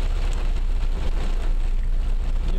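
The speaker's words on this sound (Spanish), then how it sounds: "está lloviendo en Chihuahua este 21 de junio del 2013. Es el primer aguacero torrencial que tiene esta ciudad." Torrential rain pours down in Chihuahua city, a steady, loud broadband roar of heavy downpour that stays unbroken from start to finish.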